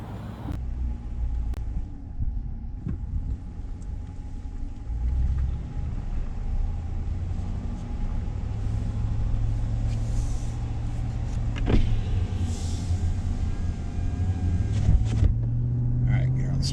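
A 2021 Ram truck fitted with a K&N cold air intake drives on the road, a deep, continuous cabin rumble of engine and tires that swells gradually as the truck pulls along, with occasional knocks and creaks.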